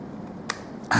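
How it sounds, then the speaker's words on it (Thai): A RAM stick clicking into the memory slot of a mid-2012 MacBook Pro, heard as a single sharp snap midway, followed by a louder burst of handling noise at the end. "เส้นที่สอง ยินเสียงดังแก๊บใช่ไหมครับ"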